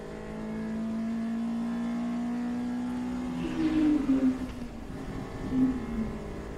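GTO-class race cars battle through turns at Thunderhill, engines humming steadily and then rising into louder revving bursts as they accelerate out of the corners.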